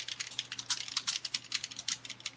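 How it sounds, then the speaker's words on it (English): Fast, steady keystrokes on a computer keyboard during an online podcast chat, close and clicky with irregular rhythm, alone without talk. "that's me typing"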